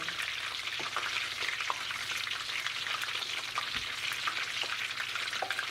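Smashed plantains for tostones fry in hot oil, a dense, even sizzle with scattered pops and crackles that carries on steadily without any talking.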